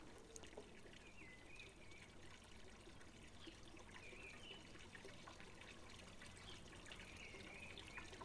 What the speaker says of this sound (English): put on the recording I took of my pond fountain with all the birds singing